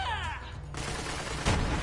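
A video game grenade launcher fires with a sharp crack and a short burst of blast noise, followed by a heavier thump near the end, loud and close under game audio.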